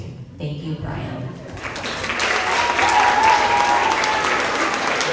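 Sustained applause from a school audience at an end-of-year middle school award assembly, clapping for PE award winners; a dense, steady roar of many hands that swells slightly and holds loud throughout, with no voices standing out.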